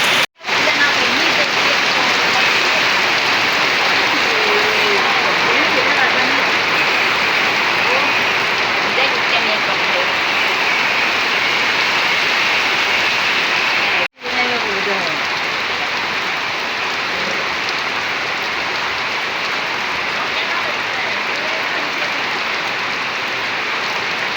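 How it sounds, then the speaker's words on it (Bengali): Heavy rain pours down in a village, a loud constant hiss of drops on roofs and ground that runs without letup, broken only by a brief dropout partway through. "দেখেন কী পরিমাণ বৃষ্টিটা নামছে"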